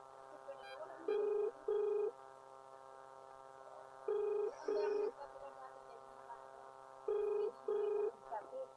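Phone call ringing unanswered, three evenly spaced pairs of loud electronic ring tones about three seconds apart over a faint steady line hum, with speech at a low level.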